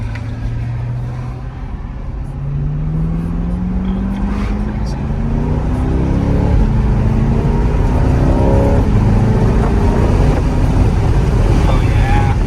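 A Chevrolet Corvette C8 launches hard in launch mode, its engine note climbing through several gear shifts in rising sweeps, loud and close inside the cabin with wind noise building.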